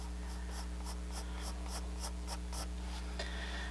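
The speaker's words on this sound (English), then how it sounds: "I'm just sort of flicking the pencil along" A pencil is flicked across paper while sketching a pear, giving about ten quick, evenly spaced scratchy strokes up close before a short lighter pause.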